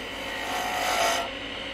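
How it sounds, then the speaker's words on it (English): A bowl gouge cutting wood on a lathe makes a steady, close, rasping scrape that lasts the whole short moment and swells slightly in the middle. "Let's see what we can do with a bowl gouge."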